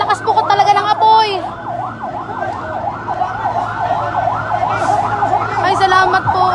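A fire truck siren wails nonstop at a large fire in Villar City, loud and close, cycling rapidly up and down, with crowd noise and voices talking around it.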